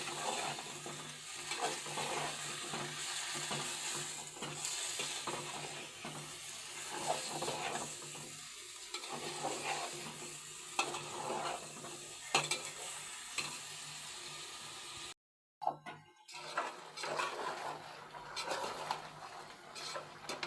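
A vegetable curry of radish, beans, tomato, carrot, cauliflower and potato is stir-fried in a pan, with a continuous close sizzle and repeated scraping stirs that pause briefly into near silence before resuming.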